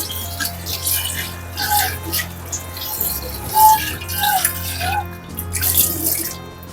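Running tap water splashes steadily over metal pooja vessels being washed in a sink, with intermittent clinks and shifting flow, continuous and close.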